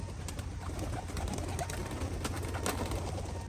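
Pigeons cooing inside a large old aviary, low soft coos repeating steadily over a constant background hum, fairly close and continuous with no talking.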